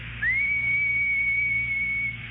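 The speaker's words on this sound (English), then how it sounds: "And if I whistle like this," A single sustained whistle from a person, rising briefly at the start and then holding one steady pitch for about two seconds, loud and clear with no talking.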